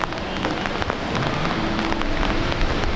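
Rain falls steadily on a street in Fuzhou's Sanfang Qixiang, a continuous moderate patter with scattered drop clicks and no voices.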